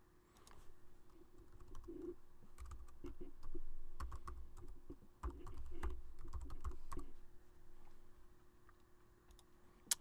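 Quiet bursts of keystrokes on a computer keyboard, typing a password to log back in, irregular clicks and taps close by with short pauses between groups.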